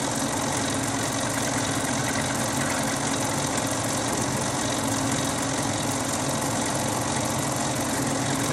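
A lathe takes the final cutting pass on a trumpet finger button stem, a steady, dense mechanical hum and whir that holds at an even level throughout with no talking.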